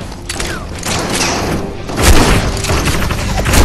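Gunfire in the SierraSquad VR shooter sounds as a dense run of booming shots and mechanical clatter, with heavier thuds near the end, loud and continuous.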